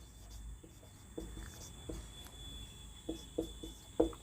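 Pen or pencil scratching on paper while a Hindi-language English grammar lesson is written out by hand; faint, irregular short strokes and taps over a quiet room with a steady high whine, no talking.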